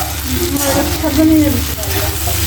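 Vegetables sautéed in a pan, a loud continuous frying hiss with stirring, and a voice briefly audible over the cooking.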